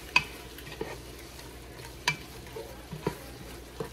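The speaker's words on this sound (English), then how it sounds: "Get this nice and stirred up." Beef frying in a pot for Mexican caldo de rez gets stirred, with a few sharp scraping clacks of the spoon over a faint, steady sizzle.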